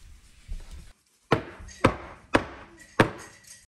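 A dish holding a no-bake mango dessert is tapped down on a counter to settle the layer: four firm, evenly spaced thuds after softer handling noise and a brief pause, close and alone.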